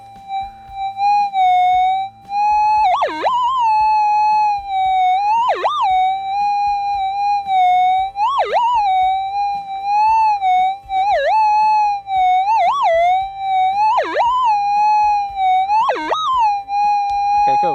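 A Minelab GPZ 7000 metal detector gives a steady electronic tone that warbles and dips in repeated sharp blips roughly every few seconds as it passes over a small gold nugget, loud and close.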